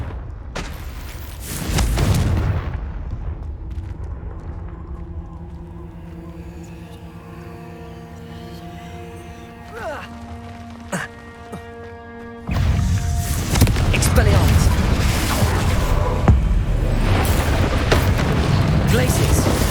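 Confringo fire spells burst in Hogwarts Legacy, with heavy booming blasts and rumbling roars from the game's combat, loud and dense, separated by a quieter stretch of ringing magical tones.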